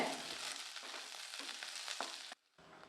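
Onions and chillies sautéing in oil: a steady close sizzle with scraping stir strokes, cutting out abruptly near the end.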